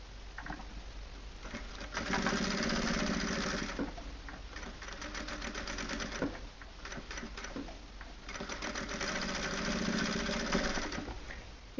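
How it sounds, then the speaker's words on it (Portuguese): A sewing machine topstitches around fabric and denim phone wallets, a fast steady mechanical ticking that runs in close bursts, speeding and slowing between stitches. "E aí faz um pesponto aqui em volta"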